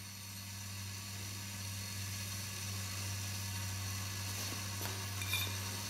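A homemade alcohol stove heating a pot of water hisses steadily, a quiet, even rush over a low hum with a couple of faint clicks near the end.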